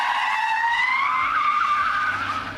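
Armored car tires squealing through a J-turn, a loud continuous screech with a slowly rising pitch lasting a couple of seconds, heard alone.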